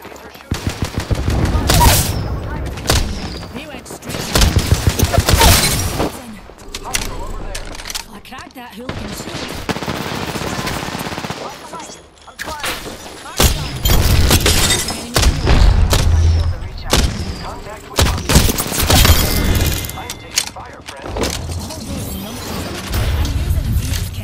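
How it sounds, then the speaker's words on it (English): Bursts of rapid automatic gunfire and heavy booms from a battle in the video game Apex Legends, loud and close, in repeated volleys with short lulls, under occasional speech. "The enemies are shooting."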